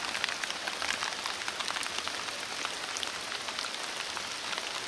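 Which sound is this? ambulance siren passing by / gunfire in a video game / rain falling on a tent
rain falling on a tent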